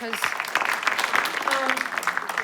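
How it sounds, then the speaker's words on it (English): A crowd at a ballot-measure campaign event claps for signature-collecting volunteers, a dense burst of applause that runs throughout while a voice speaks over it. "Give everybody a round of applause, those folks"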